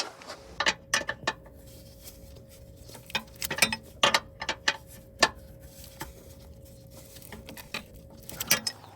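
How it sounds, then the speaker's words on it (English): A ratcheting wrench turning a bolt on a 2007 Ford Edge 3.5L during a transmission mount replacement, with short irregular bursts of rapid clicks separated by pauses, close and fairly quiet. "But definitely a ratcheting wrench"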